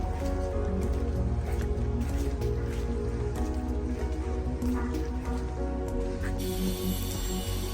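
Rain falls steadily on a steep, fog-covered mountain path leading up to a temple, a dense constant patter mixed with a loud low rumble throughout.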